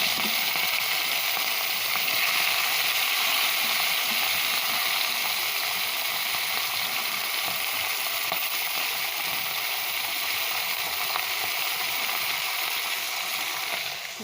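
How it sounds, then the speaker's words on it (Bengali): Green beans frying in hot oil give off a steady, even sizzling hiss that holds unbroken from start to finish. "এবার ওই তেলের মধ্যে দিয়ে দেবো বিনসগুলো"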